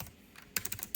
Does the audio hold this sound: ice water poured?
no